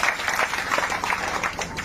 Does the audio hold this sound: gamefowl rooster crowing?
no